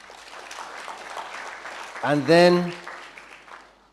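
Fresh students at a university orientation clap for the head of research, a moderate crowd patter that fades as a voice briefly speaks over it.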